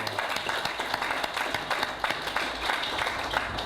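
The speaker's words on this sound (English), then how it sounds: "I think that deserves a round of applause for all of you." A crowd at a senior apartments soft opening and EPA check presentation gives a round of applause, brisk continuous clapping with sharp individual claps standing out, fairly close and steady throughout.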